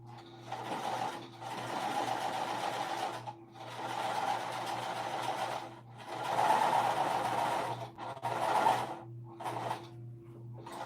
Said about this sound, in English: I'm just gonna do a row of top stitching along the top